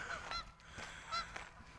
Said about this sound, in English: There's several nested pairs of geese here, so they will hiss at us when we go out there.